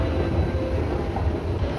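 Chennai metro train running through an underground tunnel between Chennai Central and Guindy, a steady loud low rumble and roar with constant rail noise throughout, no talking.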